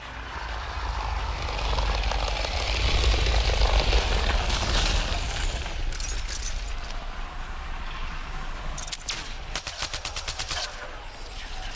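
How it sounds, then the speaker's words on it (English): A hostile shuttle roars in during a Mass Effect: Andromeda firefight, a loud sustained engine rumble with rapid gunfire bursts crackling over it toward the end. "Hostile shuttle incoming."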